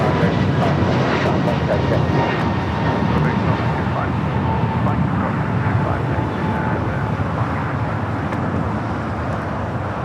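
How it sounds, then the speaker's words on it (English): A three-year-old American Airlines Airbus A321neo jet airliner moving at Los Angeles International, bound for Charlotte, sends a sustained engine roar throughout, with voices talking over it. "American Airlines 636 going to Charlotte on a 3-year-old Airbus A321neo."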